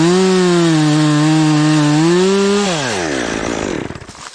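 Chainsaw cutting into a tree trunk during felling, its engine holding a steady loud whine that drops in pitch as the chain bogs into the wood, then winds down and fades near the end, no voices.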